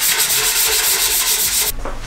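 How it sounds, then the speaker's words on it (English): Steady sandpaper rubbing on a rocket's tail cone surfaces where the fins will mate, continuous close scraping strokes that stop abruptly near the end, no voices. "I'm gonna go ahead and start sanding the tail cone surfaces where the fins will be mating"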